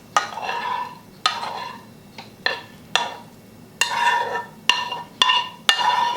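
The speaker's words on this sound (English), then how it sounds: "And now we're going to add our vegetables" Vegetables are stirred into pesto sauce in a pan, with a run of scraping, clattering utensil strokes against the cookware over a low sizzle, the sharp knocks coming irregularly and close.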